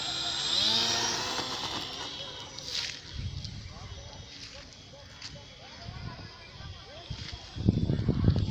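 RC model plane on a test flight in the rain, its motor whining in rising and falling sweeps at a distance, with wind gusts and people talking over it.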